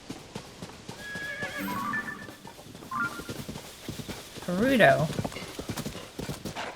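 A horse whinnies with a rising, wavering neigh amid steady hoof clip-clops in Tears of the Kingdom, close and moderately loud, while a person talks over it.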